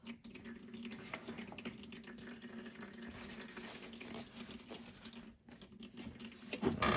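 Water drains steadily out of a golf cart engine, a continuous trickling and splashing that holds at an even level throughout with a brief dip near the end.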